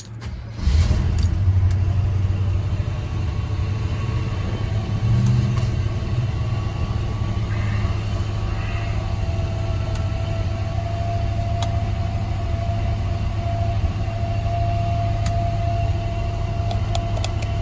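A 1971 Chevrolet Chevelle with a rebuilt motor drives along, heard from inside as a steady, loud low engine drone with road rumble and occasional light rattles, no talking.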